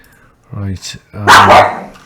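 A dog gives a short yelp followed by a louder, harsher bark at close range, heard very briefly.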